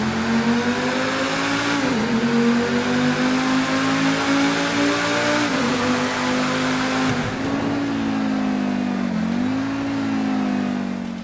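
Progen T20 supercar engine in GTA V holding a loud, sustained rev, with a steady mid-pitched roar that dips and rises in pitch a few times, close and continuous with no voices.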